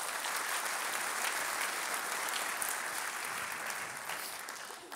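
Steady applause from an audience at a Long Beach development update event, a dense, even wash of clapping that holds for several seconds before tapering slightly at the end.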